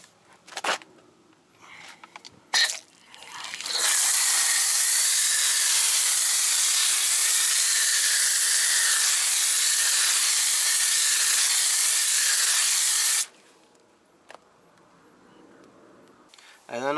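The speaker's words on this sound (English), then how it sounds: "I'm gonna spray the wheel cleaner all over the wheel" Wheel cleaner sprayed over a car wheel gives a steady, close hiss that lasts roughly nine seconds, with a few brief clicks and handling knocks before and after it.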